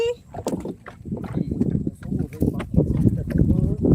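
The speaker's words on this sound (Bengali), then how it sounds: "দেখো কত সুন্দর ঢেউ দিচ্ছে আমরা নৌকায় আছি" A boat on a river, with waves lapping and sloshing steadily against the hull throughout while people talk over it nearby.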